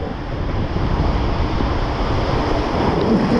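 Steady, loud rushing water splashes continuously up close on a waterslide at Blackpool Sandcastle Waterpark, with a broad hissing wash and no voices.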